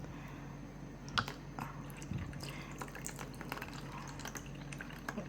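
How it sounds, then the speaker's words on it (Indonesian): Coconut milk, 250 ml, pours and drips into a pot in a home kitchen, a soft wet trickling and splashing that runs steadily at low volume with small sharper splashes throughout. "Kita harus memasukkan 250 ml santan ke dalam"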